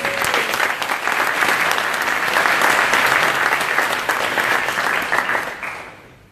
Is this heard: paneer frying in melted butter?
no